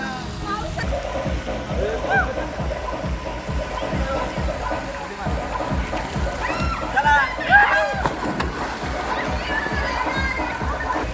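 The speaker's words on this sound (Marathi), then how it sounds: "मित्रांनो आपण आता एक उडी मारली बघा" Water splashes and sloshes continuously as people jump into water outdoors in rainy Konkan countryside, with repeated churning splashes close by and voices calling out over the steady watery roar.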